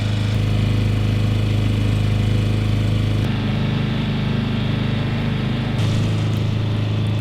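A sailboat's motor hums steadily and loudly throughout, a low droning engine tone that shifts pitch slightly partway through, while motoring down the Apalachicola River in Florida at sunset.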